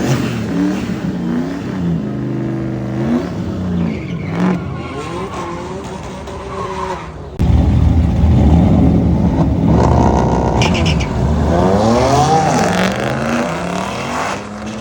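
A BMW race car launches on a track again and again, its engine revving hard and bogging as the tires spin and hop. It is loud and close, with surging, uneven pitch and a sharp jump in intensity partway through.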